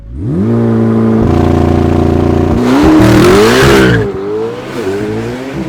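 A rear-wheel-drive supercar with a 1,064-horsepower twin-turbocharged 5.5-liter flat-plane-crank V8 accelerates hard and close, its loud engine note climbing and shifting through gears, with a brief rasping burst midway before it settles.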